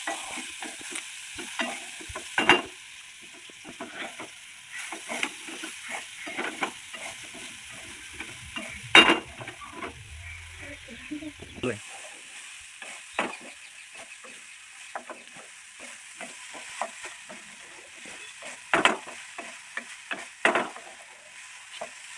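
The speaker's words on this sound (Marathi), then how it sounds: "तर आता मी सगळं काही टाकलं भेंडीमध्ये" Okra frying in a pan with turmeric and salt, stirred by a spatula that gives scattered scrapes and clicks over a soft, steady sizzle, with a few sharper knocks standing out.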